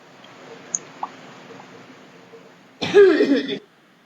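A single harsh cough, short and close, rising out of a quiet room with a couple of faint clicks beforehand.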